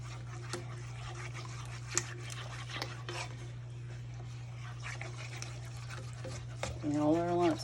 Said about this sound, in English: You whisk those out. And they will come out, so just whisk.